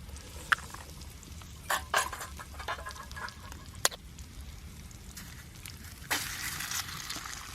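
An egg fries over a campfire in the woods, a faint steady sizzle and crackle with a few sharp pops and clicks from the pan and fire, and a louder hiss rising near the end.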